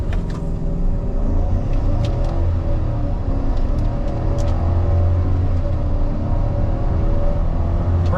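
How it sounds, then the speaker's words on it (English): A 2024 Chevrolet Silverado regular cab with a 5.3 V8 holds a loud, steady brake rev, then launches in a sustained full-throttle 0-60 run in sport mode with traction control off, engine roaring close and unbroken throughout. "Let's do a brake rev and see what it can do."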